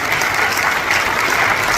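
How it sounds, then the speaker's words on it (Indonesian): Dense, steady applause from a church congregation at a regional convention sermon, a continuous wash of many hands clapping close and loud for the whole stretch with no voices on top. "Tepuk tangan yang mulia buat Tuhan Yesus"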